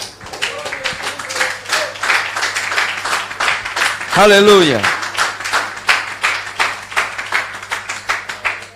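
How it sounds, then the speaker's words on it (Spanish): Congregation clapping in a church service, dense steady applause running throughout with voices talking and a sung or shouted exclamation midway. "Vamos a brindarle un fuerte aplauso a nuestro Dios."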